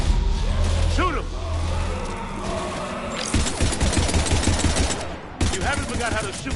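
Gunfire in the shooter game Mass Effect 3, rapid loud bursts of automatic fire with mechanical clatter, stopping and resuming in the second half, with voices speaking over the combat.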